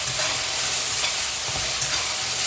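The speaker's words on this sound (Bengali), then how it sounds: "আগে নারকেল আর চিংড়ি মাছটা কষাই নিতে হয়।" Shrimp and coconut sautéing in spiced oil in a pan, giving a steady, loud, close sizzle with stirring scrapes throughout and no talk.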